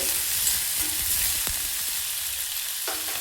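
Onions fry in a pan for a spinach dal, giving a continuous bright sizzle with an occasional light tap of a spoon against the pan.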